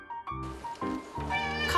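A pet cat, a young affectionate house cat, lets out a quick run of close, clear meows, rising and falling in pitch over a couple of seconds, alone in a quiet room.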